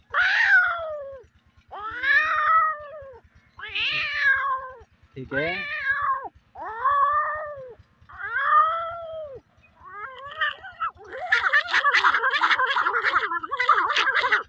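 A man imitates cats fighting, voicing a rising series of yowling meows and caterwauls, then a harsher overlapping cat-fight screech near the end, loud and close with brief pauses between calls.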